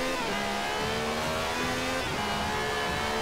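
Car engine in Forza Horizon 4 holding a steady, loud drone with rising and falling pitch as it revs, continuous throughout with no talking.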